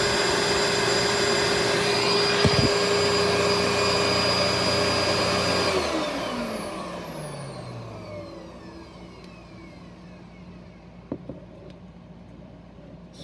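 A Dirt Devil Breeze/Featherlite vacuum cleaner roars loudly and steadily while cleaning an air conditioner filter, then switches off and its motor whines down to quiet with a faint click afterward.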